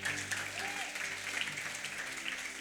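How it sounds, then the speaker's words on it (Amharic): Applause fills a church congregation during a prophecy service, a steady dense wash of many hands clapping throughout, with a faint voice briefly audible beneath it. "አጨብጭቡ ለጌታ"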